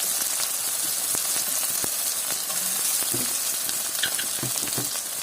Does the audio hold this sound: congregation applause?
no